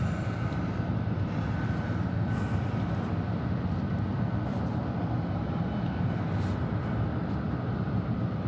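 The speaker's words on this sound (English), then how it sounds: "KLM has departed" A KLM airliner departs Atlanta Hartsfield-Jackson in hazy weather, a steady distant jet roar with a low rumble that holds even and unbroken, no voices.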